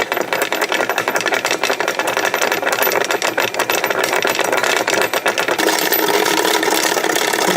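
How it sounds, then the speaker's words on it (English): A 3-phase magnetic spinning top whirring at low speed, giving a dense, fast metallic rattle that runs steadily and close throughout, with no talk. "It's like a low-speed spinning top, which is processing wildly."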